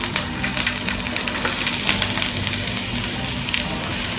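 Garlic and onion frying in a splash of oil in a pan, giving a steady crackling sizzle with small pops throughout and no talking.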